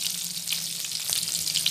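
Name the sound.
pork ribs frying in a pan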